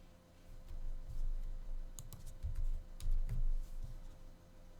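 Numbers typed on a computer keyboard, a quiet run of irregular key clicks and taps at close range over faint background hum, with no talking.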